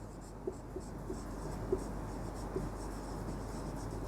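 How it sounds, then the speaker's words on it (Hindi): Handwriting during a class 7 science lesson, a pen tapping and scratching softly across the surface in short strokes over a steady room hum, without talk. "यहां पे लिख देता हूं"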